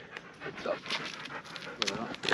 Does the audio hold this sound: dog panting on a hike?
yes